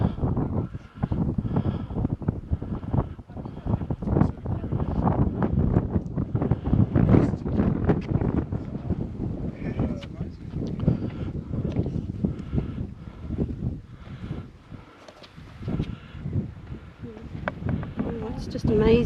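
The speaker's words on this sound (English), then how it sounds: "Bit windy up here." Wind gusts buffet the microphone at a lookout over a valley in Kakadu, rumbling low and steady throughout while people talk.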